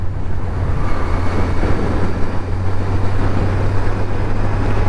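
A Kawasaki Z900 motorcycle ridden in sports mode gives a steady, loud engine drone mixed with rushing wind noise, heard continuously from the rider's position with no pauses.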